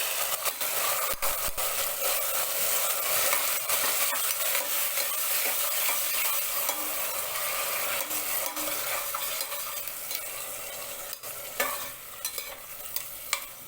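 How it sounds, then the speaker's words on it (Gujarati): Frozen peas sauté with cashews in a pan over a medium flame, giving a steady close sizzle with a spatula scraping and stirring through it. No one speaks. "મિત્રો, અહીં આપણે વટાણા ફ્રોઝન છે એટલે 1 જ મિનિટ માટે તેને સાતળીશું"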